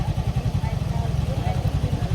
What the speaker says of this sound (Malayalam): നമ്മൾ ഇവിടുന്ന് സ്കൂട്ടി എടുത്തിട്ട് നേരെ പോവുകയാണ്.